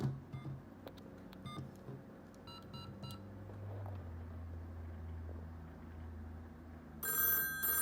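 Telephone ringing through an Arduino-built switchboard keyset, a faint electronic ring tone sustained at low pitch with a brighter burst of ringing near the end.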